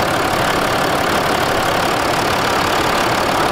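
The 3.0 diesel engine of a Land Rover Discovery 4, freshly filled with new engine oil, idles close by, a steady even rumble with a dense clattering texture throughout and no voices.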